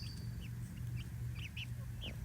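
A backyard rooster from a recently added group of young chickens calls faintly among a small flock, with brief chirpy bird sounds over a low steady hum.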